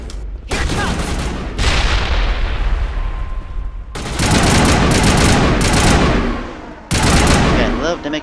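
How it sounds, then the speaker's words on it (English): Video game combat erupts in dense bursts of gunfire and explosions, loud and near, with brief lulls between volleys and a final sharp burst near the end. "I love to make explosions."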